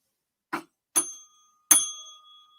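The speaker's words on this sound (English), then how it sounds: "Ding the bell." A small desk bell is struck three times, each ding clear and close with a ringing tail that lingers longer on the last strike, separated by short silences.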